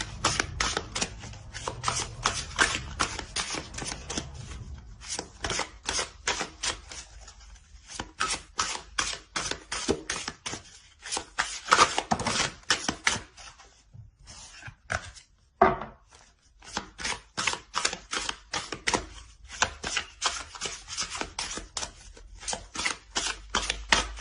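Tarot cards being shuffled by hand in a steady run of rapid riffling flicks, broken by a brief pause and a single sharp tap midway, then resuming at the same brisk pace, with no talking.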